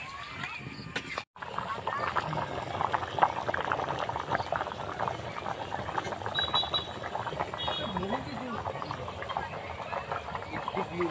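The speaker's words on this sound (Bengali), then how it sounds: "ঝোলটা খুব সুন্দর ভালোভাবে ফুটে গেছে" A pot of duck curry gravy with papaya bubbles at a steady boil, a dense, continuous, close crackle of popping bubbles at low level.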